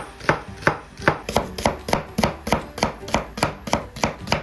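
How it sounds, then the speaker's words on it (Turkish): Two large onions being thinly sliced with a knife on a board, a steady run of about a dozen crisp, evenly spaced chops close by, with no talking. "Ardından piyazlı ince ince doğruyoruz"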